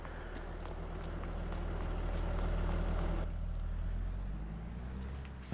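A tractor engine idles steadily in Farming Simulator 22, a deep, constant rumble with a faint rattle that holds unchanged, close and alone with no talking.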